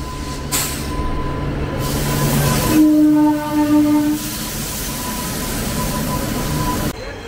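A passenger train rumbles past close by at Karimnagar railway station with a long steady hiss, and a horn sounds twice in the middle.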